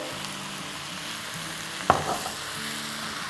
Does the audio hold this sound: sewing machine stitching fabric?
no